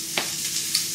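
Sausage frying in a pan, a steady close hiss of sizzling fat with a couple of brief stirring scrapes, and no voices.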